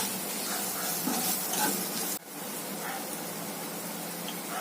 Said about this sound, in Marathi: आता हे चांगलं परतून घ्यायचं आहे अर्धा मिनिट